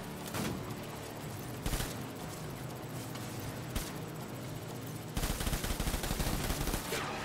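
Gunfire in the video game Death Stranding: rapid bursts of shots in several clusters, with a dense automatic volley near the end, fairly faint and with no voices.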